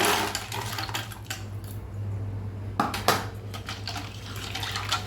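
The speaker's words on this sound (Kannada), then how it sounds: "ಈಗ ನಾನು ಕೋಲ್ಡಿಗೆ ಐಸ್ ಕ್ಯೂಬ್ಸ್ ಉಂಟು, ಅದನ್ನು ಹಾಕ್ತೇನೆ." Ice cubes are dropped into a cold, thickened milk drink in a glass. A few clinks and knocks sound close by over a steady low hum, with no talking.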